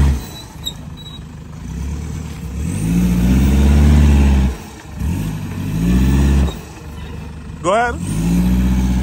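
An N70 Toyota Hilux on 35-inch tyres with twin differential lockers revs hard in repeated loud surges as its wheels spin on a big stone, dipping between bursts, with people talking close by.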